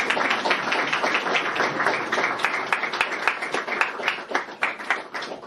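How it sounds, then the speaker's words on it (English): An audience at a gathering claps and applauds steadily, a dense, continuous patter of many hands filling the room at moderate loudness with no voices standing out. "can we give a round of applause"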